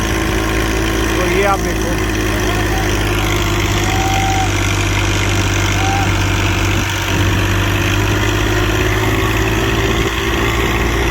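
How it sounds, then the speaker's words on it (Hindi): A Massey 50 HP tractor engine runs steadily in fourth gear with a constant, loud droning hum, while someone talks over it. "ये 50 HP कैटेगरी का ट्रैक्टर है"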